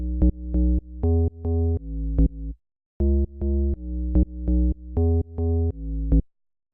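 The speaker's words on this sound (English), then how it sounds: "it's a very simple FM deep house bass patch" A simple FM deep house bass patch at 122 BPM plays the root notes of the chords in short, punchy repeated notes, two phrases split by a brief pause, loud and alone.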